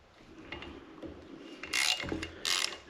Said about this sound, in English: These are 10 millimeter. So let's go ahead and break all these free.